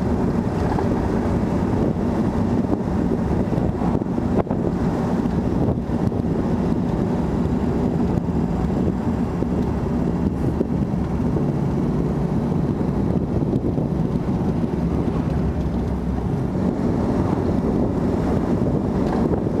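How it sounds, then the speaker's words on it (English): A 1955 Nash Metropolitan convertible cruising at about 50 mph on a bumpy Sonoma country road, heavy wind rush and road rumble filling the open cabin steadily and loudly, engine buried under the buffeting. "now we're going 50 miles an hour on a kind of a bumpy Sonoma country road"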